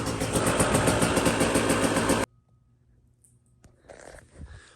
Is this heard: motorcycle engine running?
yes